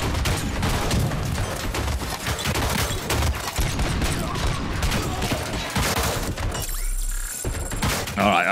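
Rapid gunfire from Robocop's gun in Robocop: Rogue City, a dense loud volley of repeated shots and impacts lasting several seconds, briefly cut off before a final crack.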